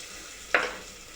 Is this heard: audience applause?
no